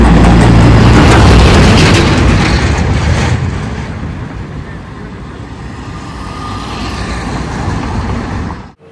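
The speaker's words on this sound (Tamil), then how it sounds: "இங்கே பாருங்கள் லாரி எவ்வளோ ஸ்பீடு." Lorry passing at speed on a road beside banana plantations, a loud rushing roar close by for the first few seconds that quickly fades into softer road noise.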